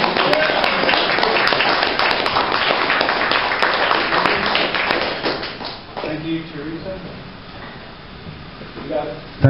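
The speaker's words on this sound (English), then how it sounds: "please give a big round of applause" Dense audience applause at a Boys' Night Out evening show for the 2015 Heart of the City Festival in the Downtown Eastside fills about six seconds, then thins out as a voice starts speaking.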